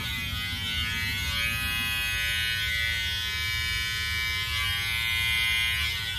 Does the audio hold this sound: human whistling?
no